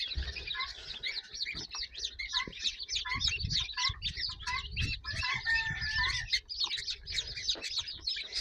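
Many small birds cheep and chirp continuously in a busy, overlapping chorus, close and fairly loud, with occasional rustling underneath.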